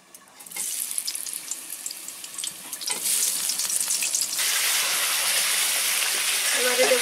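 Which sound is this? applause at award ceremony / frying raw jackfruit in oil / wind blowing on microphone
frying raw jackfruit in oil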